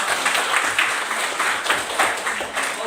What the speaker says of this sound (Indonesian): Berikan aplaus dulu buat teman-teman